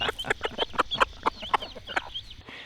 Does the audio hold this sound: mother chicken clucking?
yes